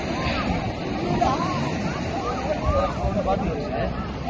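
Sea waves wash onto the beach at Thiruchendur beside the temple, a steady broadband surf and slosh with a crowd murmuring and voices talking over it throughout.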